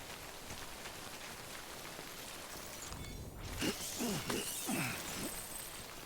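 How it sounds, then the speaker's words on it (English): Steady rain hisses across a Death Stranding game scene, broad and even throughout, with a brief swoosh partway through and a few soft thuds of footsteps or movement beneath the downpour; no talk. "Anyway, I hope I'm about out of the rain. Doesn't seem to be stopping anytime soon."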